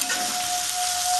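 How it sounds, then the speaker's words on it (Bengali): Chopped garlic hissing in hot oil in a pan, a soft and uniform sizzle that holds steady through the short stretch with no talking. "এটা আমি রসুন কুচিগুলো দিয়ে দেবো"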